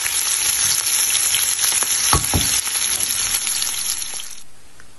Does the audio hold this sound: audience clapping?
no